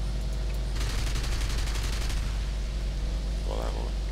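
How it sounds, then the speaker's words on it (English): Artillery and gunfire in the War Thunder tank game: dense rapid bursts of automatic fire and booming blasts over a constant low rumble, loud and continuous, with a short faint voice near the end. "Artillery and whatnot on the hill."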